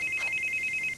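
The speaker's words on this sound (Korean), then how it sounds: "에밀리로부터 걸려온 전화" An incoming call rings on a telephone as a quick, evenly pulsed electronic trill, a run of rapid identical beeps heard alone at moderate level.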